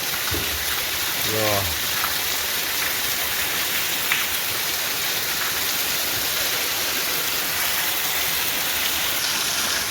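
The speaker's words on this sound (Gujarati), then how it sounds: "હાલો મિત્ર ધાબા પર ચાલુ વરસાદ જઈને તમને બતાવું કેવો વરસાદ છે" Heavy rain pours down steadily on a rooftop terrace, a dense, even hiss of falling water heard close for the whole stretch, with a brief low rumble near the start.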